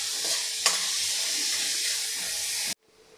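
Chopped onions frying on a full flame in a pan for a drumstick leaf curry give a loud, steady sizzle with a brief stir or scrape partway through, then cut off suddenly into near silence.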